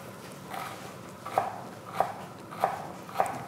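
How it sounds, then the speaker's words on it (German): A knife cuts celery stalks into very thin slices for a trout dish, four crisp, evenly spaced chops rising over a quiet kitchen background with no talk. "ich soll den Staudensellerie in ganz feine, dünne Scheiben schneiden"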